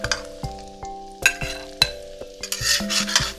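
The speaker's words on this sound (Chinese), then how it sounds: "最后倒入我们的青蒜苗，快速翻炒均匀，我们就可以出锅了。" Spatula stirring potato cakes with cured pork, salt and garlic sprouts in a wok over high heat: repeated scraping knocks against the pan over a light sizzle, quick and close.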